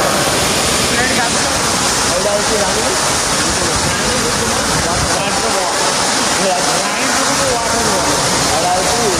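Rani Duduma waterfall in Koraput roars as a loud, unbroken rush of falling water close by, while voices talk over it.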